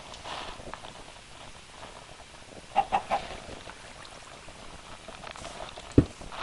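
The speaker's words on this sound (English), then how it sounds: "Chicken, I assure you, nobody wants to hear you." A Minecraft chicken gives three quick clucks in a row over a soft, bubbling game background, fairly faint, with a single sharp tick a few seconds later.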